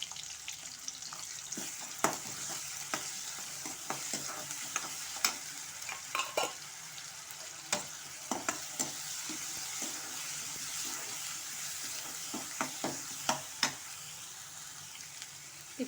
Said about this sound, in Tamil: கொஞ்சோண்டு கருவேப்பிலை, வெங்காயமும் நல்லா வதங்கட்டும்.